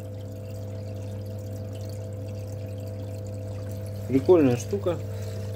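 An HJ-550 water pump, bought to water-cool a welding torch, runs with a steady low mechanical hum, and a brief splash of pouring water comes near the end while someone says a few words.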